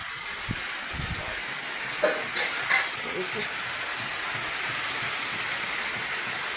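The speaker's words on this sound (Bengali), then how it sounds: "এই যে প্রচুর জোরে বৃষ্টি হচ্ছে, বেশ ভালোই মুষলধারে আরম্ভ হয়েছে বৃষ্টিটা।" Heavy rain pours down on a home courtyard as a soft, even hiss that fills the background, with brief talk and a few knocks early on before the downpour carries on alone.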